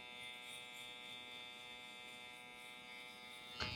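An electric razor shaves the short hairs at the nape during a classic American-style men's haircut, giving a steady, close mechanical buzz with a brief louder bump near the end.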